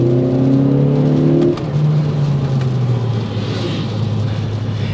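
A 2024 Kia Forte GT accelerating on a test drive: steady engine drone with rising harmonics as revs climb, then a shift and renewed pull, loud and continuous with road noise and no talk.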